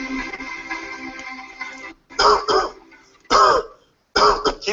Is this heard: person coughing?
yes